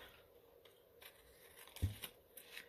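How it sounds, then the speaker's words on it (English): Scissors snip around the edges of a paper Christmas ephemera piece, making a few faint, scattered cuts and crisp clicks up close in a quiet room. "And then I'm just going to trim around my paper."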